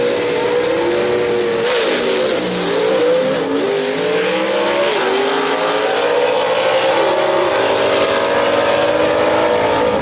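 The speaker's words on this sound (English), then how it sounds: "Something was not right on that race car as it was bouncing a little bit off the starting line." A gasser drag race car at Shadyside Dragway roars off the starting line, its engine revving loud and close, the pitch climbing and wavering as the car bounces on launch, sustained for the whole stretch with no talk.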